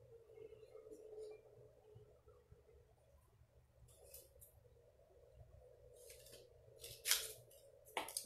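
Scissors snip through paper while a kids' craft piece, an inchworm figure, is cut out: a quiet, close run of short crisp cuts, sparse at first and then quicker, with a sharper snip near the end.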